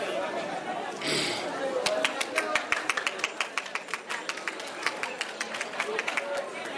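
An audience at an independence anniversary ceremony in Guinea applauds Madame Diallo Madina Aïdara, with rhythmic claps building into a steady beat over crowd chatter.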